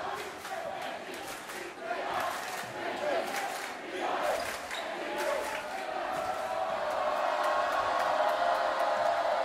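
A crowd at a high school basketball game between Northgate and Las Lomas roars and yells, swelling into a loud, sustained cheer by the end, with some shouting and a commentator's voice mixed in.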